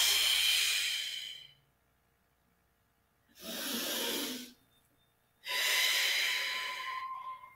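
A slow, deliberate exhale during a breathing exercise, heard as three long, breathy rushes of air close up, separated by stretches of near silence.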